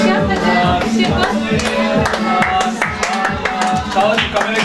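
Rhythmic clapping at a four-year-old's birthday party, a fast steady run of close hand claps with chattering voices and a little singing mixed in throughout.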